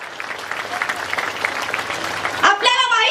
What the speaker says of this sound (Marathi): स्टेजवरील सर्व व्यक्ती जोरदार टाळ्या वाजवा